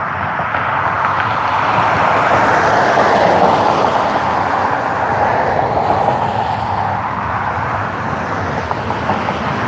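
A United Airlines airliner passes at Cleveland airport, its steady, loud engine roar filling the full stretch and swelling slightly in the middle without fading away.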